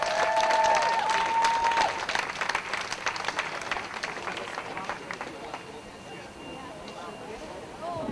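Outdoor crowd at a marijuana rally in Cincinnati claps and applauds loudly at first, then the clapping thins and fades over several seconds, with a brief whistle early on and a voice speaking beneath.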